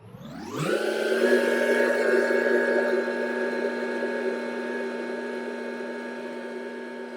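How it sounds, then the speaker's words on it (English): A farm implement's hydraulic system spins up with a rising whine, then settles into a loud, steady tonal hum as the tool and its wings are raised, holding constant and slowly easing in level. "So I'm going to use a hydraulic system to raise up the tool."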